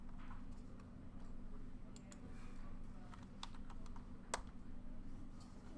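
Keys tapped on a computer keyboard in irregular, fairly soft clicks over a steady low hum, with a faint voice in the background.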